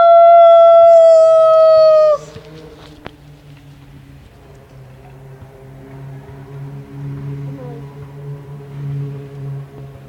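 A man imitates a howl, one long sustained loud wavering cry lasting about two seconds, followed by quiet outdoor ambience with faint distant traffic rumble.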